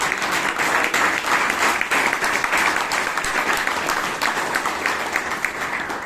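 Sustained applause from an audience at a Toastmasters club meeting in Bangalore, a thick even clatter of many hands clapping steadily throughout.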